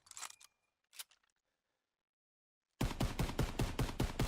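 Semi-automatic M1 Garand rifle fired with a grip attachment in Call of Duty WWII: a few sharp shots with a quiet gap after them, then a loud, rapid, evenly spaced run of about eight cracks.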